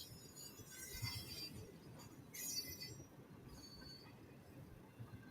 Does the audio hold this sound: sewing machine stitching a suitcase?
no